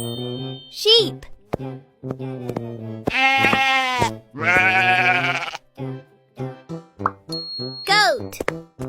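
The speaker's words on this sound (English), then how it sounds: "Sheep." A sheep lets out two loud, drawn-out bleats amid rhythmic plopping music-like taps, with a voice and bright chimes heard around them.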